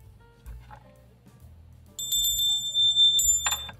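Bright ringing bell chimes of a subscribe-notification sound effect, several quick strikes starting midway and building, loud and clear with no talking.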